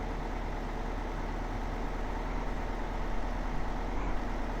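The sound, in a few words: tractor engine driving, video game Farming Simulator 19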